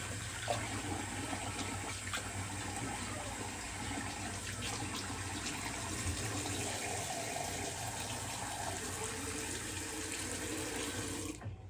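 Water from a tap runs steadily into a sink for several seconds, rinsing off after a wet shave, a constant close splashing hiss with no talking.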